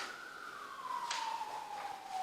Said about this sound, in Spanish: estamos tratando de hablar y pasa una ambulancia o la policía